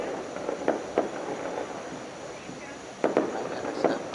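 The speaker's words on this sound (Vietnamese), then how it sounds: "đã có điểm bắn pháo hoa rồi nè." New Year fireworks are launched over Ho Chi Minh City at midnight on 1 January 2024, with scattered distant pops and bangs over a steady crowd-and-city hum.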